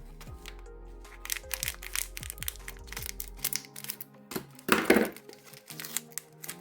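A parcel being unpacked nearby, with a busy run of crinkling, crackling packaging and sharp rustles, and one louder burst of crumpling midway.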